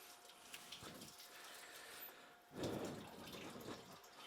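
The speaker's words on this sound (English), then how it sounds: "Wash my hands real quick." Tap water runs softly at a kitchen sink while someone rinses their hands, a quiet steady trickle that swells into a fuller splash partway through, with no talking.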